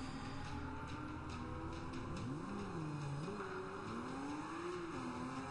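A Lamborghini Aventador drives at Le Mans in the Forza Motorsport 5 racing game, its engine humming steadily at a low level, with pitch rising and falling through gear changes, alone and without talk.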